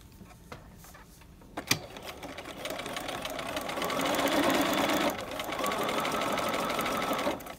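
A sewing machine stitches piping around a corner at a standard 2.5 stitch length: a few clicks and a sharp tap first, then a steady close motor whir with rapid needle chatter that continues to the end, without talk.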